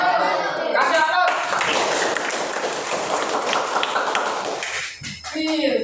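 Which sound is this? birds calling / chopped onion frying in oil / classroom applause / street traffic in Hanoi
classroom applause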